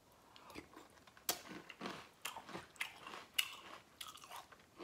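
Dry chocolate Fillows cereal being crunched and chewed up close, a steady run of irregular crisp bites and crunches with no talking.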